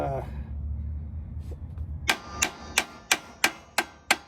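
After a low rumble, seven sharp metallic clangs ring out at a steady pace, each a hammer blow on a trailer's hollow metal brake drum to free it, with a short ringing decay.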